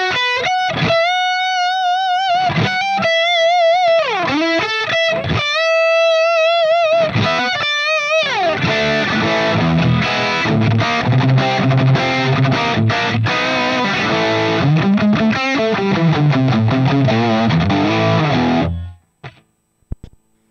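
High-gain distorted electric guitar runs through a Fractal FM9 Turbo into a 1960 cabinet model, with sustained bent notes and then dense riffing, loud and unaccompanied until it cuts off near the end.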